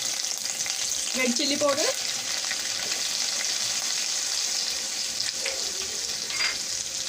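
Cumin seeds and ginger garlic paste sizzle and fry in hot oil in a pan for dal makhani, a constant loud crackling hiss with some stirring. A voice speaks briefly over it.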